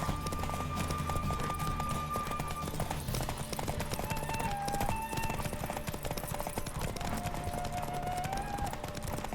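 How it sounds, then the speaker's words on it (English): Horse galloping during a race in The Witcher video game, steady clip-clop hoofbeats running throughout at a fast rhythm, loud and close, layered over game music. "Don't spare the horse."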